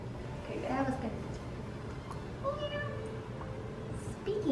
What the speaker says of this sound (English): Speaking of meows